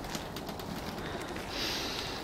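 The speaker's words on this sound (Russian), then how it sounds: "Птички поют." Birds calling in an Alaskan forest on an overcast day, soft and somewhat distant over a steady outdoor hiss, with faint coo-like notes and no talking.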